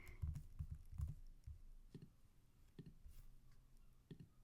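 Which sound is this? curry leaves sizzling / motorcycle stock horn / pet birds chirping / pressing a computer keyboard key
pressing a computer keyboard key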